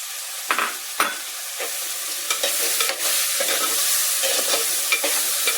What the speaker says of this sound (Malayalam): അതും നമുക്കൊന്ന് ഇളക്കാം.